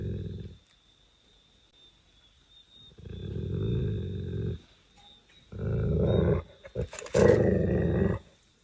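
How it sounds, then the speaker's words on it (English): A dog growls in low, rumbling bursts at something hidden in backyard bushes, with three long, loud growls separated by short pauses and a rougher, snarling edge near the end. "a dog named Moose begins behaving anxiously about something concealed in the backyard bushes"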